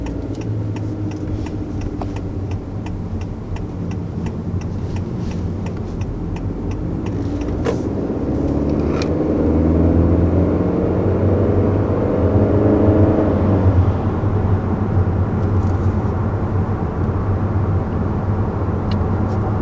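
A 2020 Honda Accord with a 1.5 liter engine accelerates, its engine note climbing steadily in pitch and swelling louder before leveling off as the car cruises, heard from inside with a faint ticking early on.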